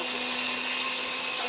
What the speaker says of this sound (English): So I have my wand immersion blender.